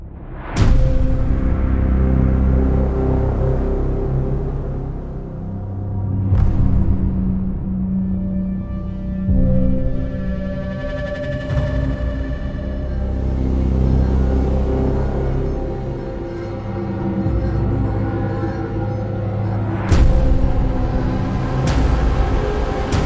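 Cinematic movie trailer score closing on booming low impacts, with deep rumbling hits rising at intervals and a final clean boom, loud and full with sustained low tones between the hits.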